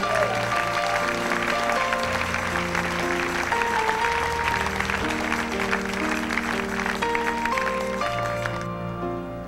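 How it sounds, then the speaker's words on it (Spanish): A church congregation clapping steadily to praise God over sustained keyboard music, a continuous, even patter from start to finish. "Dale palmas al Señor"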